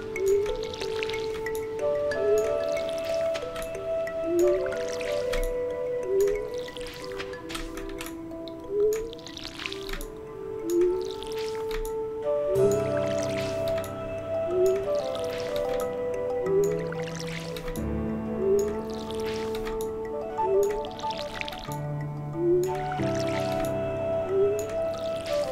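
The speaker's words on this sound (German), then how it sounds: "Und wieder gießt er irgendwo hin." Watering crops with a watering can in the farming game Stardew Valley: repeated short splashy squelch effects in a steady rhythm, each drop-like burst followed by a chiming tone, over looping background music.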